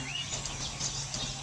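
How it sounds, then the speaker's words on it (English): Faint, scattered bird chirps drift from the background of Tadoba Andhari Tiger Reserve forest over a steady low hum, with no voices. "We can hear a lot of birds chirping behind."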